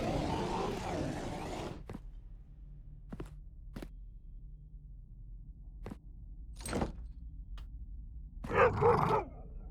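Dogs barking in the dungeon-crawler video game Dverghold, short sharp barks scattered singly across the stretch over a low ambient hum, with a louder burst near the end.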